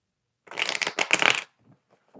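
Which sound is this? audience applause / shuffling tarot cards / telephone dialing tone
shuffling tarot cards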